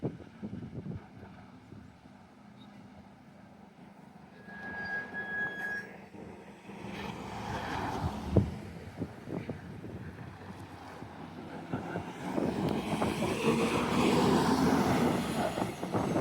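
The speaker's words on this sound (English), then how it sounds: "See how slow that acceleration is and how noisy. Gas bus." A gas-powered city bus turns left out of a suburban avenue and pulls away slowly, its engine rising from a low rumble to a loud, growling drone as it accelerates, with wind noise throughout.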